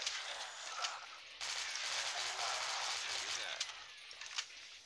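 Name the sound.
Gatling gun gunfire in video game Dead Trigger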